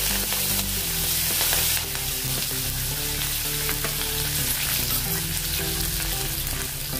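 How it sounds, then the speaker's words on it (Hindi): Green chilies and curry leaves sizzle loudly in hot oil, a steady, crackling fry with a brief stirring scrape, while soft background music plays beneath. "हरी मिर्च डालेंगे और साथ में कड़ी पत्ता डालेंगे"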